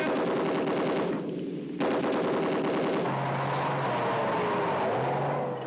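Rapid bursts of gunfire from British Army tanks during troop platoon tactics, a continuous loud rattling with a short pause partway, followed by a low droning engine.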